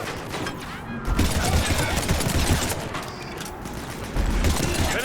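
Rapid gunfire rattles in Mass Effect 3 combat, dense sustained bursts with intermittent gaps, loud and close amid battle noise, with faint voices underneath.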